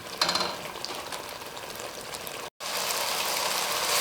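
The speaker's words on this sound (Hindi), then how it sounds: "अब मैं इसे तेज़ आंच पे भून लेती हूँ, फिर आपको दिखाती हूँ।" Masala with spinach and mutton frying on high heat in a pot, a steady loud sizzle with stirring scrapes, briefly cut by a short gap before the hiss resumes.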